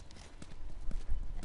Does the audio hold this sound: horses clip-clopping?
yes